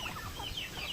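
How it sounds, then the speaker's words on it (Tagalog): Hungry native chickens and chicks cluck softly nearby in a short burst of overlapping calls. "Mga sisiw natin ang native, gutom na rin."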